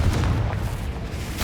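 Confringo spell explosion in Hogwarts Legacy, a loud low boom with a rumbling tail and a second burst near the end, with no talk over it.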